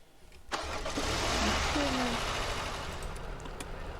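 A car engine starts in the video game A Dusty Trip, a sharp crank followed by a loud steady idle that settles, close up and alone.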